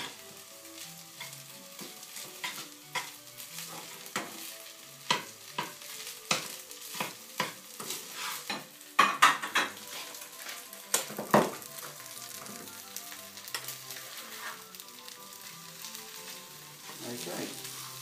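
Ham fries and is stirred in a pan, with a continuous sizzle under repeated scraping and clacking strokes of the utensil against the pan, busier in the middle and settling to a gentler sizzle toward the end.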